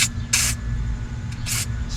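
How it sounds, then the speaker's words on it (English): Two short aerosol bursts of Blaster penetrating oil, sharp close hissing sprays over a low engine or shop rumble, separated by a brief pause. "Sprayed with a little blaster."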